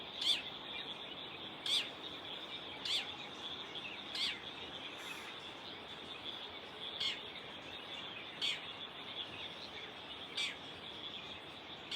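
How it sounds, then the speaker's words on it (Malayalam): Birds sing at sunrise in the Kodaikanal hill countryside, giving faint, distant chirps repeated every second or two over a steady hiss of insects, with no talk. "പലതരത്തിലുള്ള കിളികളുടെ മത്സരിച്ചുള്ള പാട്ട് കച്ചേരിയും കേട്ടാണ് എല്ലാ ദിവസവും"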